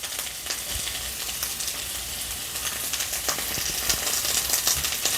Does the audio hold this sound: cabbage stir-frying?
yes